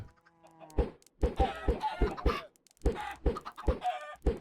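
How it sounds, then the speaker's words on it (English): Minecraft chickens cluck as eggs are thrown at them, with quick bursts of clucks in two clusters separated by a short pause, fairly close and moderately loud, with no talking. "So let's go ahead and throw some eggs at some chickens."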